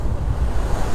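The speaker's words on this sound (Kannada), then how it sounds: "ವಾವ್, ಎಷ್ಟು ಫೋರ್ಸಾಗಿ ಬರ್ತಿದೆ ನೋಡಿ ನೀರಲ್ಲಿ" Rushing water at Kote Abbe waterfall during the monsoon, a loud, steady roar of turbulent flow with wind buffeting the microphone throughout this brief moment.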